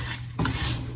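A rhubarb mixture stirred in a pot while it comes to a boil, a short close scrape and clink of the spoon against the pot over a soft bubbling sizzle.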